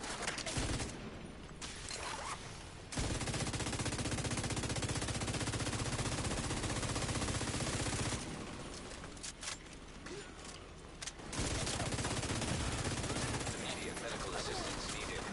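Enemy machine guns in The Division 2 rattle in long sustained bursts, loud and close, with short pauses between volleys and a voice talking in the gaps.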